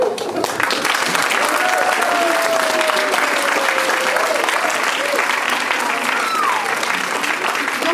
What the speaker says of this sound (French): je vous laisse applaudir tous les partenaires